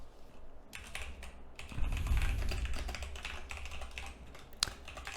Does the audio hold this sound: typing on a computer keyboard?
yes